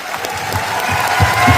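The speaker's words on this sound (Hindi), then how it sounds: "ऐसे शख्सियत के लिए जोरदार तालियां होनी चाहिए।" Loud applause from a large audience at a company anniversary celebration, thick continuous clapping that builds slightly toward the end, with a few low thumps and faint cheering mixed in.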